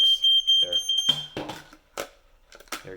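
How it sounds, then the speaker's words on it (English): A smoke alarm under a canned smoke test gives a steady high-pitched electronic beeping in short pulses, then stops as people talk over and after it. "your smoke alarm should go beep beep if the smoke sensor works"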